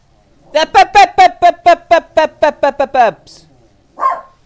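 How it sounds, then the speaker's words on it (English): A dog barks repeatedly in a quick, loud series of about a dozen sharp barks, close to the listener, followed by a brief pause and one more short bark in a room during a Fallout New Vegas game session. "So when this dog starts barking, I've got an excuse for the barking in the background."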